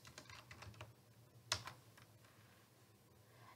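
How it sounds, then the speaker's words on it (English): Soft clicks of typing on a computer keyboard in a quiet office setting, a short run of faint keystrokes followed by one sharper tap and a few trailing clicks, close but low in level. "She's going to type in"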